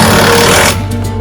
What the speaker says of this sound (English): especially working with power tools in the rain